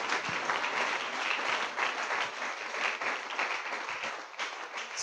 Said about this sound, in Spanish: Denle un aplauso al que usted sabe que nos recompensa